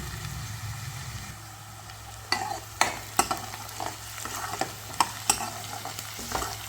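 Garlic and onion fry in oil with a soft sizzle and a low hum, and from the midpoint sharp spatula clacks and scrapes against the pan come at irregular intervals.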